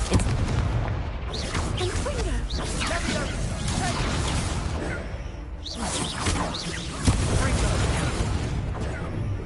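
Repeated booming spell blasts and whooshes from casting Confringo in a Harry Potter game, with loud explosive bursts rolling one after another under near-continuous battle noise and shouted spell voices.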